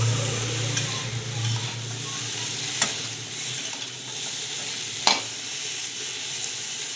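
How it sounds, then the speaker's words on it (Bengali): Flat beans, eggplant and vegetable stems fry together in oil over a garlic tempering, a steady moderate sizzle broken by a few sharp spatula scrapes and knocks against the pan. "ফোড়নের উপরে এগুলোকে ভেজে নিচ্ছি,"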